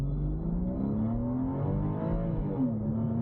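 A Porsche Boxster S 986 with Tiptronic transmission accelerating hard from a standstill, engine note climbing, dipping at a gear change, then climbing again, close and steady.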